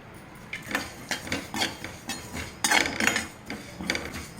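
Cumin seeds roasting in a pan for curry-leaf spice powder, with a series of close metallic clinks and scrapes from a spoon stirring at an uneven pace.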